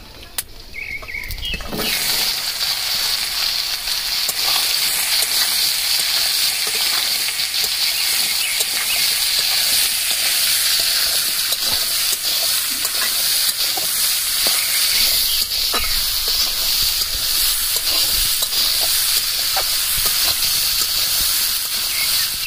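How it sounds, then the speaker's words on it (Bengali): Bay leaf, dried chilli and five-spice hiss as they hit hot oil for a fruit pickle, a loud steady sizzle that bursts in after a brief quiet start and keeps going without talk. "এর মধ্যে তেজপাতা আছে, শুকনো লঙ্কা আছে আর 5 ফোড়ন আছে। গরম তেলের মধ্যে দিয়ে দেবো।"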